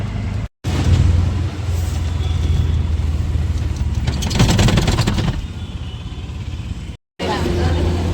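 An auto rickshaw rides through Pune city traffic, its engine droning close with a rush of passing vehicles, broken by two brief dropouts to silence.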